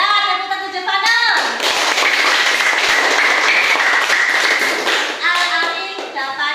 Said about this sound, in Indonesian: Ya, tepuk tangan Jepang.